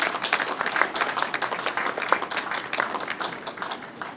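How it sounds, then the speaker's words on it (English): An audience at an opening ceremony bursts into steady applause, dense hand clapping from many people filling the room without pause, close and moderately loud. "request you to clap for all the people who are there and a louder clap for yourself for being here"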